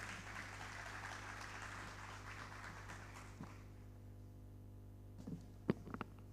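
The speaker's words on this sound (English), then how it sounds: "A round of applause, a good one for the chairman" Applause from an audience at a youth empowerment summit in Nigeria rises as a soft wash of clapping over a low hum, dies away after a few seconds, and is followed by a few sharp isolated knocks.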